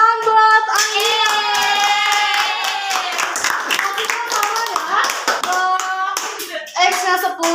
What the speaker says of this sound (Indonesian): tepuk tangan buat Anggia